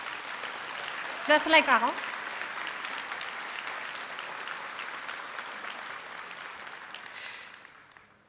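An audience at a Parti Québécois party congress applauds steadily for several seconds, a broad wash of clapping that fades near the end, with someone speaking briefly over it.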